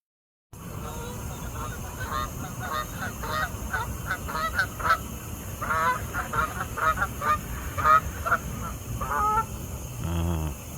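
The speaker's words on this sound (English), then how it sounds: "Canadian geese." A flock of Canada geese honks repeatedly at a moderate distance, overlapping calls in irregular bursts over a steady background hum.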